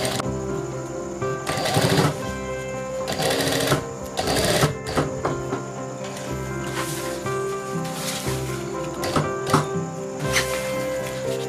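A sewing machine stitches fabric for a homemade trekking bag in several short, loud whirring bursts separated by brief pauses and light handling rustles.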